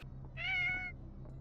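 A single cat meow from a video game, clear and close, about half a second long, over a steady low background hum.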